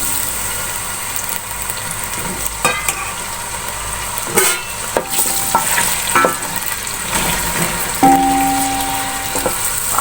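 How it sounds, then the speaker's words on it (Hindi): Small cut potatoes fry in a pan over low heat with a steady sizzle, punctuated by scraping and stirring clatters and a brief metallic ring near the end; no one speaks. "आलूओं को हल्की आंच पे थोड़ा फ्राई कर लेंगे।"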